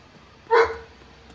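A single short dog bark in Shenmue III, sharp and fairly loud against a quiet background.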